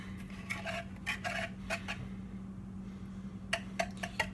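A beater clinks against a bowl while eggs and vanilla extract are mixed for cookie bars, a series of quick metallic taps in irregular bursts with a pause midway, over a steady low hum.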